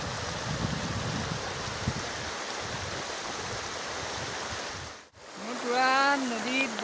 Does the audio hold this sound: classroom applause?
no